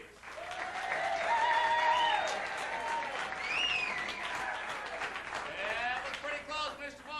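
An audience at the 1996 improv comedy World Championships in Kansas City applauds for the San Jose team, with swelling clapping mixed with loud whoops, whistles and shouted cheers that fade and flare again.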